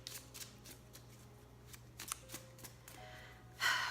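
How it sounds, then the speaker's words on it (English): Tarot and Lenormand cards are shuffled and drawn from the deck in a quiet room, with soft papery riffles and slides, then a louder burst of card handling at the end. "So let's pull 3 cards"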